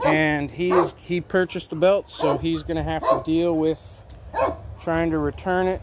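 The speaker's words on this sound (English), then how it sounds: "It's a rescue dog that was beaten, and it just won't stop barking." A rescue dog barks repeatedly in the background, mixed under near, continuous conversation about a riding lawnmower's belt.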